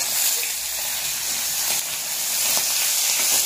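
Onions frying in a pan for a Rajbongshi home recipe cooked in Bankura, giving a steady, close, bubbling sizzle that swells slightly toward the end, with no voices.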